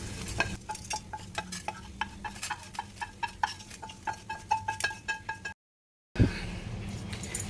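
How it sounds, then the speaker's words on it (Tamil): Curry leaves splutter and fry in hot oil in a pan for restaurant-style sambar rice, a dense run of sharp crackling pops and stirring clinks, briefly cut to silence near the end before the sizzle resumes. "கருவேப்பிலை போட்ட உடனே எப்படி வெடிக்குது பாருங்கள்"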